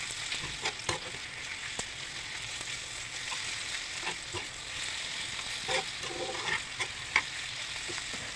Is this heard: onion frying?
yes